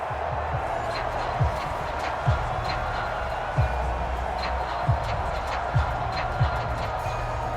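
A constant roar from a Madden NFL 25 stadium crowd sits under play-by-play commentary during a Broncos–Jets game, with dull thuds recurring every second or so.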